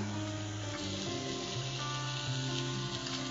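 Baby potatoes dropped into a pan of frying masala gravy with a steady, soft sizzle, faint and continuous, with no speech.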